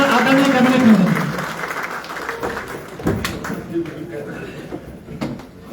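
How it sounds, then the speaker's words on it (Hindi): A crowd at a political welcome event for a cabinet minister in Rudraprayag claps loudly as he is invited on stage, the applause strongest at first and then thinning under a voice and scattered thumps. "जोरदार तालियों के साथ में मंच पर आमंत्रण आदरणीय कैबिनेट मंत्री जी"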